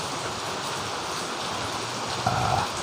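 Light morning drizzle falls as a soft, continuous hiss of rain, steady and fairly quiet, with a slightly fuller patch of patter near the end and no voices.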